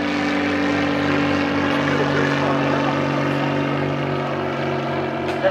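A Helio Courier STOL propeller airplane drones steadily overhead at slow speed, a strong continuous engine and propeller hum with little change across about five seconds.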